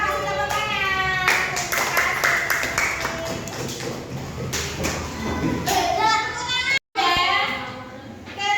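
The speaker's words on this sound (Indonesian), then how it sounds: "Kasih tepuk tangan." Schoolchildren in a primary classroom clap together in a loud, uneven burst mixed with thumps and lively kids' chatter, with a teacher's voice heard around it.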